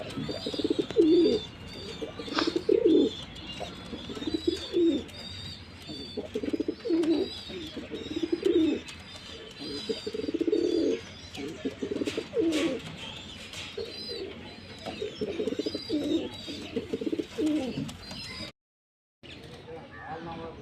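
Male Girebaaz pigeons coo close by in repeated soft, throaty bursts with brief chirps between them, while someone speaks at times.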